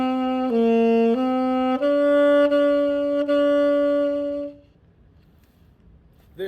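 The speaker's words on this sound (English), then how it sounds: "This is the saxophone." A saxophone plays a short phrase of sustained, sliding notes, clear and close, then stops and leaves a quiet room.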